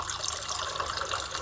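A Billi tap dispenses sparkling water in a steady, close hiss and gush of running, fizzing water that continues unbroken without voices.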